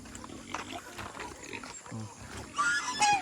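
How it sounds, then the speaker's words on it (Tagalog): Piglets squeal and grunt in a busy, noisy pen on a farm in the Philippines, with a sharper burst of squealing near the end. "May mga biik din dito."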